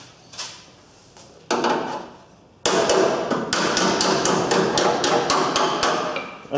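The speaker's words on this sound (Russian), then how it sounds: "А здесь кантик немножко подобьем." A hammer taps on the car body metal of a VAZ 2110 during welding repair work, a few scattered knocks at first, then a quick regular run of sharp, close metallic raps.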